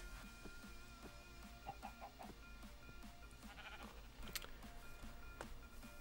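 Sheep bleats and chicken clucks in Minecraft near an automatic wool farm, quiet and scattered over a steady low hum, with no talking.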